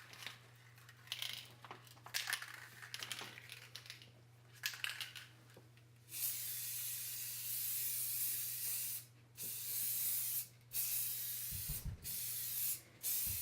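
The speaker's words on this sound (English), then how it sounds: "I put a few coats of exterior spray lacquer on it" Exterior spray lacquer hisses from an aerosol can in several long, steady bursts with short pauses between them, close and fairly loud, with a low steady hum beneath.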